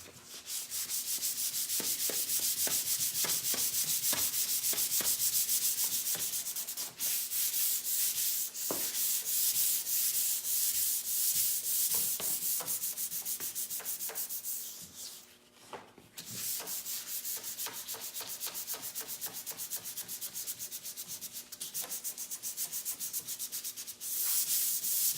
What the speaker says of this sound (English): So this will get some additional sanding and then some priming as well to make sure that we have that sanded smooth